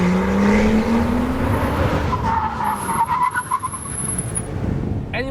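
A 2014 Porsche Cayman with carbon ceramic brakes braking hard from speed, loud tire skid and engine noise sweeping down, continuous and close throughout.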